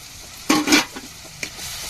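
Tomatoes and chili tipped into a pan of softened frying onions for a Tamil-style macaroni, giving a couple of sharp scraping stirs and a soft sizzle, then a quieter scrape, close up with no talking.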